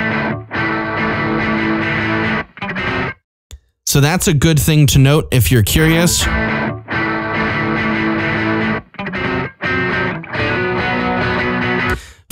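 A Laney Ironheart amp model running on Aurora DSP produces heavily distorted electric guitar chords, loud and sustained. They break off briefly for a short burst of speech and then resume.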